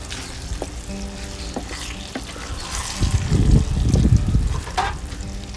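Tomato sauce tipped into a pot of simmering chili, a wet sizzling pour and stir swelling loudly midway over the steady frying hiss.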